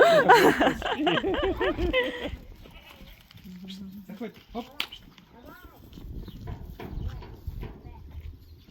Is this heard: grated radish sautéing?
no